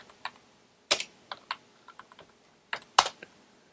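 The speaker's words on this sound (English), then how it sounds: "I do this by typing at the terminal." Keystrokes on a computer keyboard while a command is entered at a terminal, a sparse run of crisp clicks with two sharper, louder taps, close and alone without talk.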